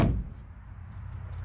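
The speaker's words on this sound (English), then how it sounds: "But all the doors close." A classic car's door swings shut with a single solid thud at the start, then a low, fading resonance with no talk.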